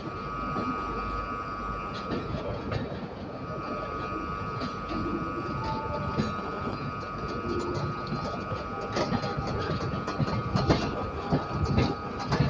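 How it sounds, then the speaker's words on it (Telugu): Shatabdi Express train 12025 rolling into Secunderabad station, a continuous rumble with clattering wheel clicks and metallic rattle heard from inside a coach, steady and fairly loud throughout. "కరెక్ట్గా 1 minute లేట్తో ట్రైన్ సికింద్రాబాద్కి ఎంటర్ అయిందండి."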